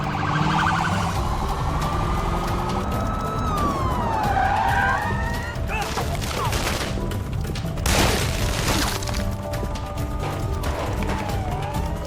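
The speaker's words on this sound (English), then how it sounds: "I heard the sirens." Police sirens wail and sweep in a video game scene, several tones rising and falling over continuous traffic and car noise, with sharp bursts of gunfire-like impacts in the middle.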